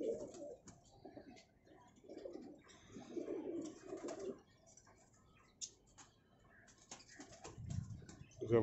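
Pigeons in a home breeding loft with exotic breeds coo softly in low, throaty bursts, fairly faint and repeated at intervals, with some light rustling and wing movement nearby.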